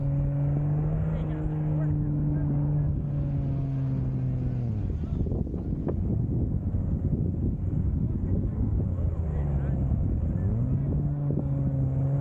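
A Honda Goldwing motorcycle rides a slow figure 8 during practice, its steady engine drone dipping and rising in pitch through the turns, with wind buffeting the microphone throughout.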